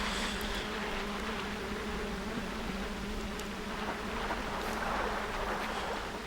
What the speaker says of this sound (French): Des petites mouches partout.